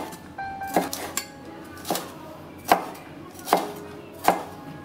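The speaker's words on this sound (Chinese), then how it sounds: "青红椒切成块" A knife chops green and red peppers into chunks on a board: five crisp, evenly spaced cuts heard up close, with no talking.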